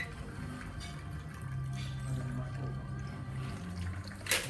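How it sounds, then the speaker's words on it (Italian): Liquid pours steadily into a glass as a bar chef builds a cocktail, a soft continuous trickle under faint room noise, ending with a brief bright clink. "E andiamo a versare il liquido."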